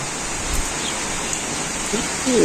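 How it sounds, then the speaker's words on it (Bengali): Light rain falls steadily in a village, a soft continuous hiss with no distinct drops, fairly even in loudness and with no voices. "বৃষ্টি নামছে হালকা বৃষ্টি"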